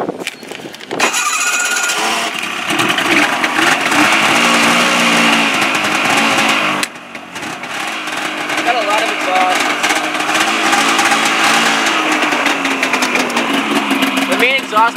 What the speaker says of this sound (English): So I'm going to start it up. Usually I have to put it on half choke